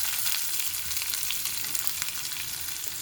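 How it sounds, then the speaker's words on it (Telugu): Curry leaves, green chillies and onion pieces frying in a pan for a chana dal and tamarind-leaf curry, giving a steady, fairly soft crackling sizzle with no talk. "కరివేపాకు, పచ్చిమిర్చి, అలాగే ఉల్లిపాయ ముక్కలు కూడా వేసేస్తున్నాను."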